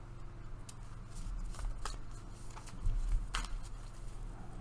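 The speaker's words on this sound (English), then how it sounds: "Quick shuffle." A quick shuffle of a small hand of Marvel Eye Found It picture cards, heard as a faint, brief rustle and a few soft card snaps over quiet room hiss.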